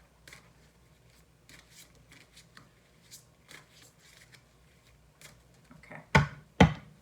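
Soft rustling and light handling of oracle cards being shuffled, then two sharp, louder riffling bursts near the end, close up with no talk.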